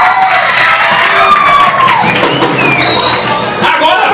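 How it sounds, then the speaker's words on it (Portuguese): Crowd at a school gincana event applauding the group leaders, loud continuous cheering and shouting with children's voices and some clapping mixed in, a whistle-like tone rising near the end. "Salva de palmas para seus líderes dos grupos."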